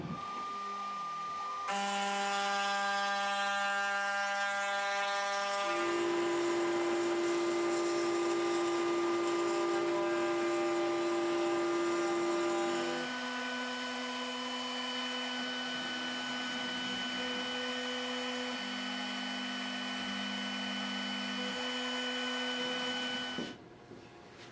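CNC router cutting along the edge of a wooden workpiece, a loud steady high whine with shifting pitch that runs for over twenty seconds before stopping abruptly, no voices.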